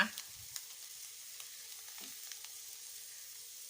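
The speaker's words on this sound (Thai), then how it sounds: "แล้วเราก็จะค่อยๆเคล้าไปนะคะ" Preserved radish and egg are stir-fried in a pan with sugar: a soft, steady sizzle under occasional light scrapes and clinks of stirring, heard close and quiet.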